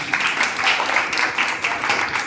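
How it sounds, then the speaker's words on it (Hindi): An audience at a Jain monk's discourse in Delhi breaks into sustained, dense applause, steady and fairly loud for the whole stretch with no voices over it. "आइए जोरदार ताली बजाने मिलेगी।"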